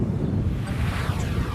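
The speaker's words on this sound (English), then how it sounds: "it's a bit windy today as well" Outdoor wind buffeting a microphone during a DJI Mini 3 Pro drone takeoff, a constant low rumbling roar with no voices.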